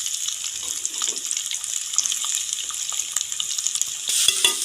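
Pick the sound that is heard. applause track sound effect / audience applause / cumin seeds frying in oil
cumin seeds frying in oil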